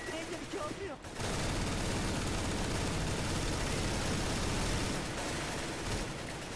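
Dense, continuous gunfire from a CS:GO JailBreak match, loud sustained bursts of automatic shots layered together after a brief quieter opening, with voices buried under the shooting.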